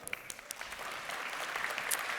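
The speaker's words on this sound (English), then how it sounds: "Please give him a round of applause." Audience applause at a manufacturing keynote event as people are invited up on stage, a steady clapping that builds from scattered claps into a fuller, sustained round.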